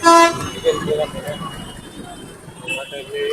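A vehicle horn sounds loudly at the start on a road, a short blaring toot, followed by traffic noise and a voice talking nearby.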